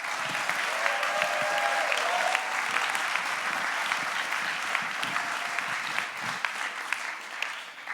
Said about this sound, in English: Round of applause for the speakers